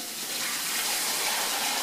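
Liquid marinade poured into a pot, a steady gushing splash of liquid that holds even and close throughout, with no voices.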